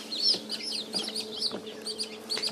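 Four two-day-old chicks in a brooder under a heat lamp give off a steady stream of high, thin cheeps and peeps, closely overlapping and fairly near, with no talking.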